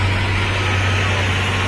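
A Farmall 1066 tractor engine, the Pride of America 5 millionth-model unit from Hudsonville, Michigan, runs at a steady low rumble under crowd noise and nearby talk at a summer tractor event.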